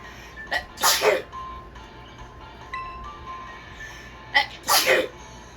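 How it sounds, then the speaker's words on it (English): Two sharp sneezes from one person, the first near the start and the second near the end, each a loud burst with a quick intake before it and quiet room tone between them. "Sneeze."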